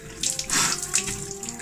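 Cold tap water runs and splashes steadily over a person's head under a faucet, a continuous close hiss with bursts of splatter and no talking.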